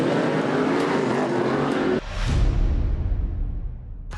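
Superstock race cars on a speedway dirt track roar past loudly and up close, the engine note sweeping by, then a deep rumble fades as the field pulls away.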